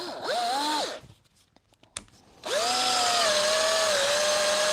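A cordless drill drives a screw into split chestnut wood, with two loud whining bursts of motor sound, rising in pitch, separated by a short quiet gap with a click, heard close and alone.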